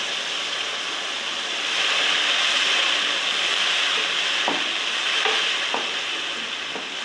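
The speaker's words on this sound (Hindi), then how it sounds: "टमाटरों को मिक्स कर लेते हैं" Chopped tomatoes stirred into a sizzling pan with onions and spices for chana pulao: loud continuous frying hiss with several distinct scrapes of a spoon against the pan.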